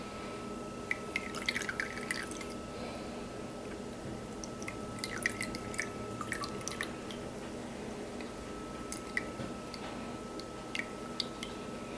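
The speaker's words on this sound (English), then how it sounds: "just slowly rotate the strainer to let the juice get through the pulp" Lime juice drips through a strainer into a bowl as the strainer is slowly turned, faint scattered ticks and small wet drops over a quiet steady background.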